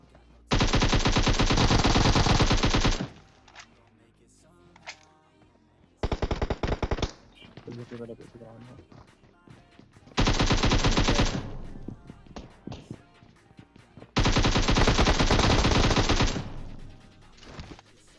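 Automatic gunfire in the battle royale game PUBG, with several loud sustained bursts of rapid shots separated by quieter gaps filled with scattered single shots and game ambience.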